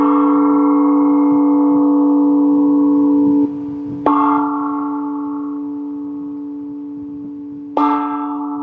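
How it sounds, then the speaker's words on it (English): A gong is struck three times to open a group session, each hit ringing out with a long, shimmering sustain that slowly fades before the next strike, loud and close with no talking. "let me just use the gong to"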